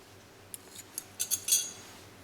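Scissors snip through crochet yarn in a few quick, faint cuts, close by and alone without talk.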